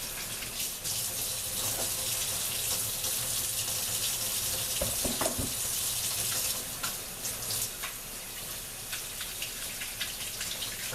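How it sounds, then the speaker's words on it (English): A kitchen tap runs steadily as hands are washed beneath it, giving a loud continuous splashing rush with brief shifts as the hands move through the stream. "And wash my hands here for the next step."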